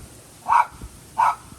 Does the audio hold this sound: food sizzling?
no